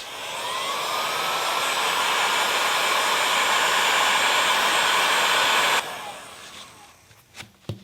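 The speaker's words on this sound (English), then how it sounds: "Hair dryer." A heat gun or hair dryer blows hot air onto a punctured tire in a loud, steady whooshing roar, then cuts off abruptly, leaving a few faint handling clunks.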